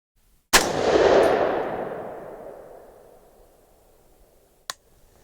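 A single sharp .308 rifle shot through a SilencerCo Omega 36M suppressor, loud and close, with a long rolling echo that fades over several seconds before a faint click.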